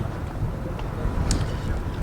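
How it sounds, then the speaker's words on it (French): Strong wind buffets the microphone with a low, continuous rumbling roar, close and fairly loud with slight gusting. "c'est quoi ce vent de fou là?"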